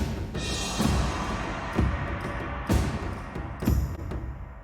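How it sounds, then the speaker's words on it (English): Crashing cymbals accent an energetic Bedwars game-music cue during an explosion, splashing bright hits about once a second over heavy drum thumps, full and loud with no voice present. "And you'll notice I like to use the cymbals whenever there's an explosion."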